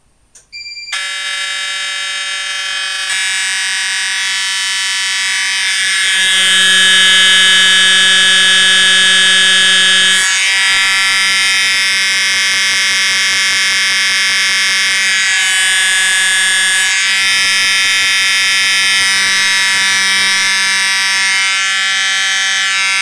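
EST fire alarm horns blaring continuously during a Potter PFC 4064 fire alarm system test, a harsh, loud, buzzing electronic tone that starts abruptly and holds steady with slight shifts in pitch and intensity, with no talking.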